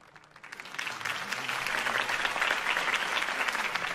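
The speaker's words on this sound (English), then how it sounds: "If only Mr. Wayne, my campaign's largest backer, could have heard that applause" Crowd applause at a campaign speech in the Batman Telltale video game, swelling in after a quiet start into dense, steady clapping that holds loud and full to the end.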